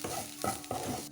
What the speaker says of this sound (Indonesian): Waktu menyangrai, jangan ditinggal gengs, dan terus diaduk karena kelapa parut sangrai ini mudah sekali gosong.